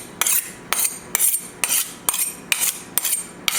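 A kitchen knife chops vegetables on a cutting board while a home cook preps a Sicilian herbed chicken with green beans and tomatoes, giving eight crisp, evenly spaced chopping strikes close to the microphone, with no talking.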